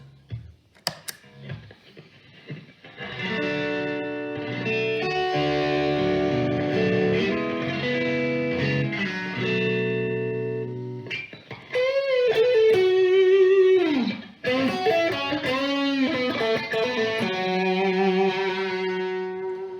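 Electric guitar played through an RS808 Tube Screamer-style overdrive pedal, strummed chords and sustained bent notes with a crunchy, distorted tone, pausing briefly between phrases.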